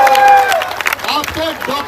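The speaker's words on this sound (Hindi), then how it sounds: "एक बार जबरदस्त तालियां बजाई जाए।" At a protest gathering, a crowd breaks into brief, bright applause and scattered cheers, with a voice talking through the clapping.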